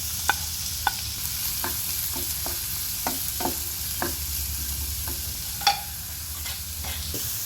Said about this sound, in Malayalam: ഇതിലേക്ക് നമുക്ക് ഉള്ളി ഇട്ട് കൊടുക്കാം. പൊടിയായി അരിഞ്ഞെടുത്ത ഉള്ളിയാണ്.